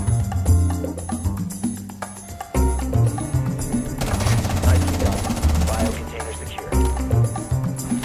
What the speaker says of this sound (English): You miss all your shots with the fully automatic weapon